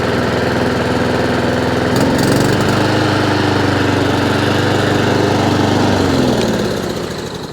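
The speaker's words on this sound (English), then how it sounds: "Honda IZY 19-inch lawnmower" A Honda IZY 19-inch petrol lawn mower idles steadily and loud at close range, its running engine holding a continuous even drone that fades slightly at the very end.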